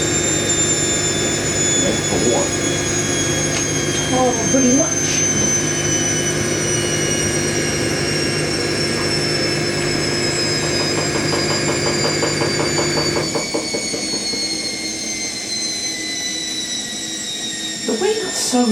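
Indesit IWC71452 washing machine on a 90°C whites programme, its spin winding down from around 600 RPM: a steady motor whine falls gradually in pitch over drum rumble, and the tone drops away abruptly near the end while people talk briefly.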